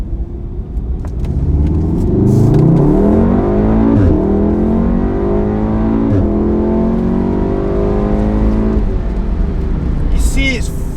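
Volkswagen Golf Mk7 R engine revving hard from inside the car, a loud continuous roar that rises and falls in pitch, with someone talking over it.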